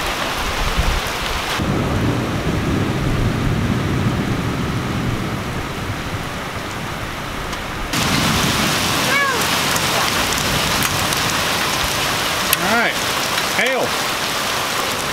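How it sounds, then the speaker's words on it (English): A hailstorm with marble-sized hail hammers down as thunder rumbles, a dense, loud roar of pelting that shifts in intensity midway, with sharp nearby impacts and deep rolls toward the end. "Yeah, that's like, marble-sized hail. There's some actually pretty big-sized hail dropping."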